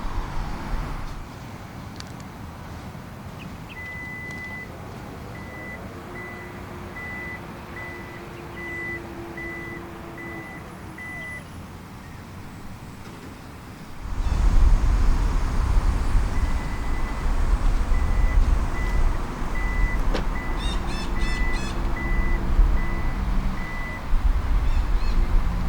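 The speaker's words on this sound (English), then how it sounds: "There are 3 ways to operate the powered rear hatch in this 2018 Harrier." Powered rear hatch of a 2018 Toyota Harrier 2.0 Turbo operating: a repeating electronic warning beep over a low motor hum, growing louder and busier midway as the hatch moves, with more beeping toward the end.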